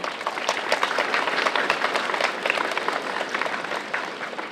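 Audience applause for guests at a school's last-bell ceremony, steady dense clapping from a crowd lasting throughout, moderately loud and even.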